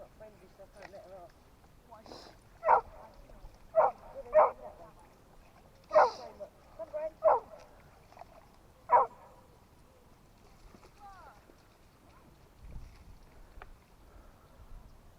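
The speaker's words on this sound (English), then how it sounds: "That dog's not friendly, so I can't let her off." A dog on a bike ride gives a scattered series of short barks and yips at moderate distance, about eight sharp calls over several seconds with quieter stretches between them, while a person speaks briefly.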